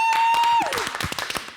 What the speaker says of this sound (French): On va applaudir Dr Aïssatou Diallo